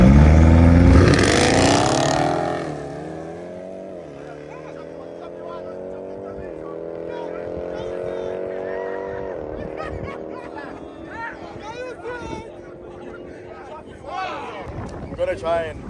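BMW M8 and Dodge Durango, both highly tuned, rev hard at an airstrip: a loud opening roar climbs and then settles into a sustained high-pitched engine drone, with further rising revs near the end and people talking over it.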